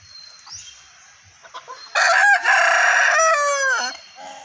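A rooster crows loudly and close by, a long drawn-out call that falls at the end, after a few soft hen clucks and small noises among the backyard chickens.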